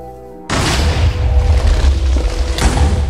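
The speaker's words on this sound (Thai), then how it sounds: "ระเบิดแน่นอนนั่นไงว่าแล้ว" A Minecraft lucky block explodes with a sudden loud boom that cuts in after a short pause, then a sustained rumbling roar of debris, with a second sharp burst toward the end.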